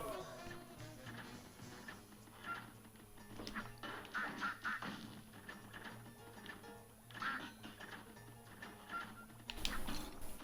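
Cartoonish duck quacks from the video game Cuphead, a few short bursts over busy game music and effects at moderate volume.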